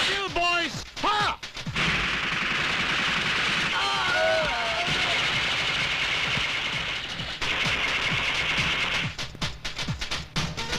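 Sustained gunfire and explosive bursts in a Hindi action movie shootout, a dense loud barrage lasting several seconds between shouted voices and short sharp shots.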